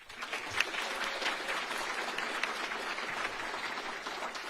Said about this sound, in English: please join me one last time for a round of applause for all of our contributors